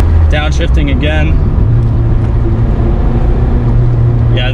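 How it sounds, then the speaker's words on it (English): Inside a 1991 Nissan Pulsar GTi-R hatchback with a Silvia-derived engine, the motor drones loudly as the driver downshifts, the engine pitch shifting beneath brief bursts of a voice talking. "Downshifting again."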